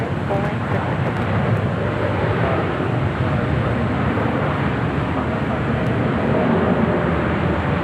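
A jet airplane taking off at LAX, a loud, steady broadband engine roar that continues throughout, heard at a distance with a faint radio voice beneath it.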